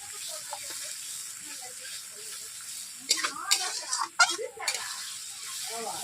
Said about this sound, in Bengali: এইভাবে আমি 5 মিনিট মশলাটাকে কষিয়ে নিচ্ছি।